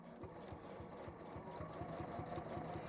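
A sewing machine stitching fabric with contrast thread makes a steady, rapid mechanical chatter of evenly spaced needle strokes, close and quiet with a faint motor hum underneath.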